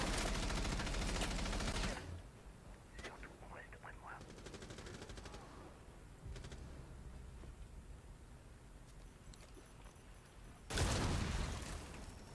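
Gunfire in the tactical shooter game Rainbow Six Siege: a rapid burst of automatic shots opens the clip, sparse softer game sounds follow, and another loud burst of shots comes near the end.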